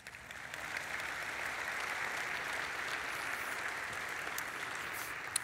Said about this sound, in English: That's why they're so excited and clapping today.